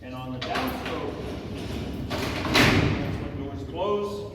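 Alcatraz cell doors closing via a lever control box, heavy rolling metal slides and a clanking thud, loud and close amid echoing crowd chatter.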